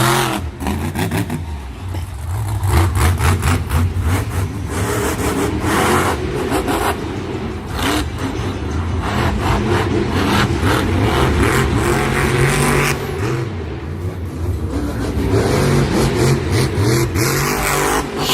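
Bakugan Dragonoid monster truck at a Monster Jam freestyle competition in Santa Clara, its engine roaring and revving loudly and continuously with surging bursts, amid a large stadium ambience.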